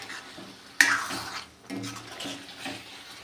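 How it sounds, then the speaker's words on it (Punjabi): Water is poured into a pan of boiled potatoes: a sudden close splash and gush that fades over a second into a softer trickle, followed by quiet stirring and pan sounds. "ਥੋੜਾ ਜਿਹਾ ਆਪਾਂ ਪਾਣੀ ਐਡ ਕਰਾਂਗੇ ਕਿਉਂਕਿ ਆਲੂ ਆਪਣੇ ਬੋਇਲ ਕੀਤੇ ਹੀ ਹੋਏ ਨੇ"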